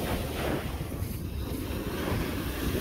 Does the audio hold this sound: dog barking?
no